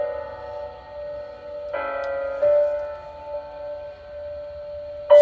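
Kids' show audio played through the speaker of a VIC-3/VRC intercom installed in an M1045A2 Humvee, heard as a thin, steady tone with music-like notes, moderately loud and alone without talk.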